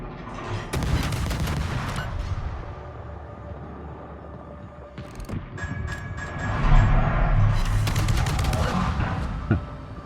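Naval ship guns fire in a video game, with booming salvos and crackling blasts over a steady mechanical rumble, rising into heavier volleys toward the end.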